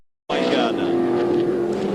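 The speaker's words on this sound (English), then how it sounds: "Richards goes deeper under brakes and sneaks through on the inside of Wayne Gardner." 1995 V8 Supercars race cars braking and racing at Mallala: a loud, steady engine roar starts abruptly and holds throughout, with a commentator talking over it.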